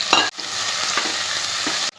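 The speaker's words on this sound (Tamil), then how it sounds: "பொடியாக நறுக்கின சின்ன வெங்காயமும் பெரிய வெங்காயமும் சேர்த்து நல்லா கோல்டன் ப்ரௌன் கலரில் வறுத்துக்கணும்" Chopped small and large onions sizzle steadily in a hot pan, frying to golden brown, with a couple of brief stirring scrapes near the start.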